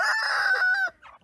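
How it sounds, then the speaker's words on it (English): A rooster from a backyard mixed chicken flock lets out one loud, close crow, a drawn-out wavering call that cuts off sharply, followed by a brief softer call. "The roosters are having a competition here."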